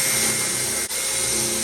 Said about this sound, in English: we're about to drill this side panel out